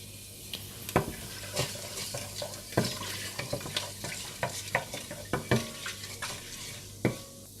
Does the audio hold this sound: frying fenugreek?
yes